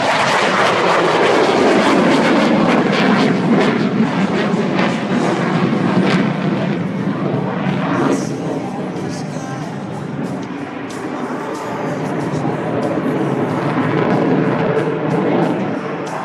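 An F-18 Hornet fighter jet roars past overhead in a flight demonstration, a loud, sustained broadband engine rush that slowly shifts in tone as the aircraft passes, with no voices over it.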